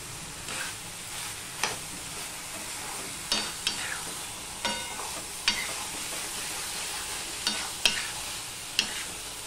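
Spiny gourd and dal stir-fry in a pan with a continuous sizzle, punctuated by repeated spoon scrapes and taps every second or so as the mixture is turned.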